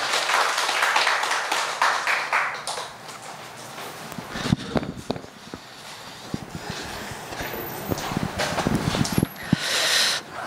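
A church congregation at a Sunday service breaks into scattered clapping, uneven bursts of hand claps rising and falling in a reverberant hall, with some shuffling underneath.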